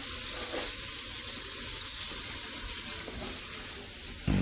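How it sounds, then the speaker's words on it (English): Cool tap water pouring into a pot of cooked potatoes, a continuous rushing, hissing splash at steady level, ending with a brief louder clatter. "let that cool water run in there"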